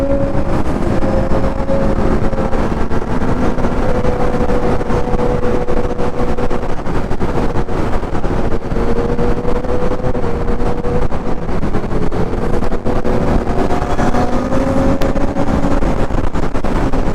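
A motorcycle rides at speed with a loud stock exhaust, its engine drone steady and close with wind rush throughout, holding a constant pitch with no talk.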